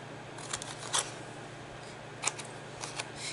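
Scissors snip a small rectangle out of white cardstock for a paper treat pouch, giving a few sharp, close cuts spaced across a quiet background with a low steady hum.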